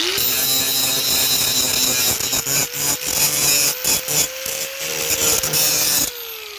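A power tool scrubs bare metal on a lawnmower deck to clear a spot for a welder's ground clamp, giving a loud, steady, close grinding whine with a rising pitch that cuts off abruptly near the end.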